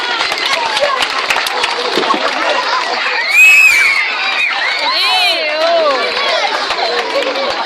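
A crowd at an evening hypnosis show at a campsite cheers and applauds, children shouting and whooping loudly over a dense wash of clapping and chatter that swells midway.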